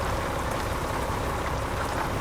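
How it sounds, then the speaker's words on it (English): Steady rain falls in American Truck Simulator, a dense, even hiss of drops that continues without a break and with no voices. "Working in the rain today."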